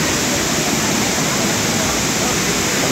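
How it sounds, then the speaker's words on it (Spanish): A waterfall seen on a descending trail pours in a constant, loud, full-bodied rush of water with no breaks. "Seguimos descendiendo hasta la cascada."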